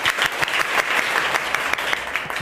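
A classroom of students at a government school in Jharkhand clapping together, a dense, steady round of applause close by with no voices over it.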